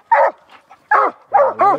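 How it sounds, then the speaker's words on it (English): A young coon dog, a female with only a few trips to the woods, lets out three short bursts of barking with a brief whimpering sound between, close and loud with no talk. "I think I got me a coon dog."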